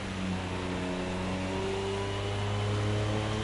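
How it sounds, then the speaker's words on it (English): An LMP prototype race car in Project CARS 2, flat out at Le Mans on the Mulsanne straight, drones with a steady high-revving engine tone that shifts pitch slightly, continuous and fairly faint with no talking. "just the savage speed of these LMP ones"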